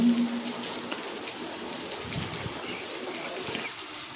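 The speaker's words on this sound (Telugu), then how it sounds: "ఇప్పుడైతే వర్షం పడుతుంది బయట, చూడండి ఎంత బాగుందో వర్షం." Steady rain falls outside as a soft, continuous wash of patter, with a faint bird coo somewhere in the distance.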